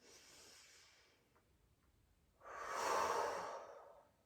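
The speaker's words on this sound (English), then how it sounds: "breathing in through the nose, close the eyes, and exhaling through the mouth" Calm, slow breathing in a relaxation exercise: a soft inhale through the nose, a pause, then a longer, louder breathy exhale through the mouth, close and without speech.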